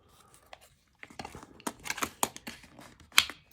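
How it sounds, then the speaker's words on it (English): Old scissors originally used for petit point embroidery on fine silk gauze are handled, giving a run of close, crisp clicks, snips and rustles in irregular rhythm, with no talking. "so I have those scissors"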